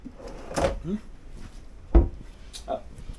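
A storage drawer in a cruise ship's Yacht Club suite cabin on the MSC World America gives a single sharp wooden knock partway through, with softer sliding rubs around it and a person talking over the top.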